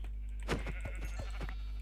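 Several short sheep bleats from the Minecraft video game, each a brief nasal cry spaced across under two seconds, loud and close over a steady low hum with no talking.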